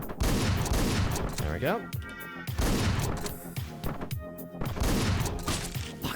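Rapid enemy gunfire from the top-down action game Hotline Miami, dense volleys of loud shots with thuds and shattering, while a player's voice talks briefly over it.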